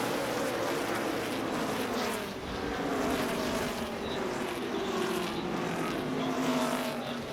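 NASCAR race cars at Dover, Delaware on lap 31, with a multi-car crash taking out four cars: a continuous roar of engines, fairly distant and steady, with shifting engine tones as the cars race past.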